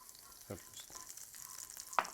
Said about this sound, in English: I'm going to take a tablespoon of olive oil while the skillet is still hot, and then a tablespoon of butter.